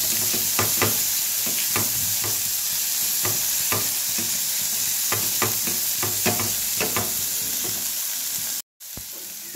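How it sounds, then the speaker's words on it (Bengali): Grated carrots frying in hot ghee for carrot halwa are stirred in a pan, giving a steady sizzle broken by regular spatula scrapes. There is no talk, and a brief cut near the end. "এবার একটুখানি নেড়ে চেড়ে নেব।"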